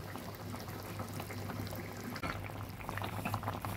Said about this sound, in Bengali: ঝোলটা ফুটে উঠেছে, আলুটাও সেদ্ধ হয়ে গেছে